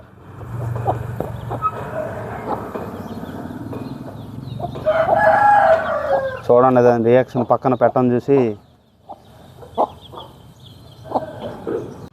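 A young rooster crows loudly nearby, a rising, warbling call lasting a couple of seconds, with clucks before it and someone talking before and after.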